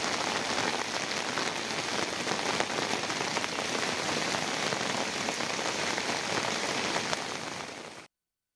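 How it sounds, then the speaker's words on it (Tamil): Heavy evening rain pours over Theni town in Tamil Nadu, a dense, loud, unbroken hiss of drops on surfaces lasting about eight seconds before cutting off abruptly. "தேனி நகர் மற்றும் சுற்றுவட்டார பகுதிகளில் காலையிலிருந்தே வானம் மேகமூட்டத்துடன் காணப்பட்ட நிலையில் மாலை கனமழை பெய்ய தொடங்கியது"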